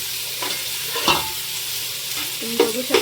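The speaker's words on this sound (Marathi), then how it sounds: "आता कांदा थोडा ब्राऊन ब्राऊन करू द्यायचा आहे" Onions fry in a pan for chicken biryani, with a constant sizzle close up and several scraping, clattering strokes of a spoon stirring them.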